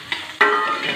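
Onion dropped into a hot pan, a sudden burst of loud, close sizzling that carries on steadily for a moment.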